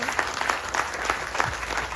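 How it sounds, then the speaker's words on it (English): An audience at an outdoor Ramayan in the Park gathering applauds the organizers, a dense, steady round of clapping from many hands with no voices rising above it. "thank you so much for give them a big round of applause"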